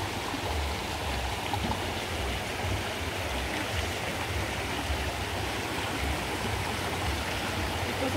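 A fast-flowing river rushes over stones in a continuous, full roar of churning water, close and unbroken, with no talking.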